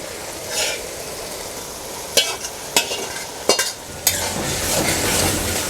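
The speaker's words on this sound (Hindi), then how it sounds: "जमाल भाई वक्फे से चम्मच इसमें चलाते रहे हैं।" Spoon stirring dal keema frying in a pan at a dhaba, with a steady sizzle and several sharp metallic scrapes and clinks of the spoon against the pan.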